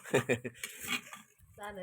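Brinjal pieces going into a cooking pan for a curry, with a few quick metallic clinks and scrapes of the pan and utensil, close and fairly soft, plus a short voice-like murmur near the end.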